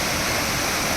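Rushing water of a swollen mountain stream on the Valley of Flowers trek, a steady, loud, broadband roar filling the whole moment without pause and with no voices over it.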